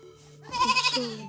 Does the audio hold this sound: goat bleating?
yes